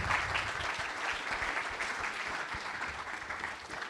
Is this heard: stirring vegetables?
no